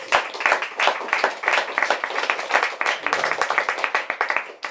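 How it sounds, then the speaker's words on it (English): Audience applause at a bookstore author event, with dense overlapping hand claps filling the room at steady strength and some scattered voices mixed in. "Let's give them a round of applause."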